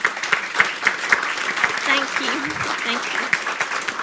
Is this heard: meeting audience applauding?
yes